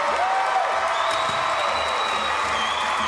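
Crowd applause at a Paralympic para powerlifting final in Paris after a 27-year-old Venezuelan's 120 kg lift: steady, dense clapping from a large arena audience, continuous across the moment with no voices standing out.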